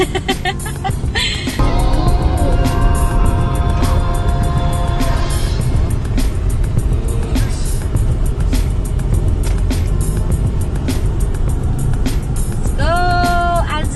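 Car being driven, a steady low engine and road rumble throughout, with music and intermittent tones on top and no clear talk.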